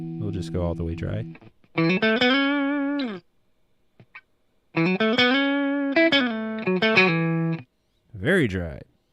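A dry, distorted electric guitar plays short chords and riffs that stop abruptly, leaving brief silences with no lingering tail.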